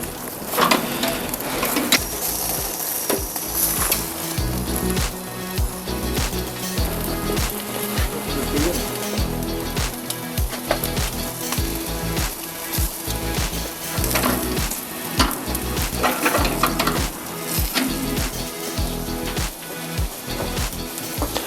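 Continuous sizzling and crackling of potatoes frying in a pan, loud and close, with occasional scraping and stirring noises throughout.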